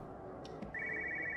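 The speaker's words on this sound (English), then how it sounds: "Where's this phone ringing though?" A telephone rings in the video game Everybody's Gone to the Rapture, a steady electronic trill that starts after a couple of soft knocks and carries on to the end, clear and moderately loud.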